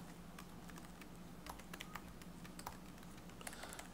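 Computer keyboard typing, a quiet run of scattered light key clicks in irregular bursts, close but faint, with no talking.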